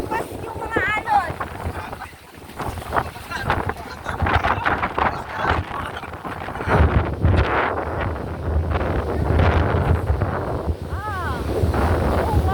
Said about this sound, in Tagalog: Naghahampas yung mga alon.